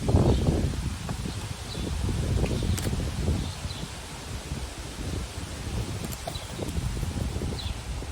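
Wind gusting outdoors on a breezy day, a steady broad rush with low buffeting rumbles against the microphone and occasional rustling, fairly close and continuous throughout.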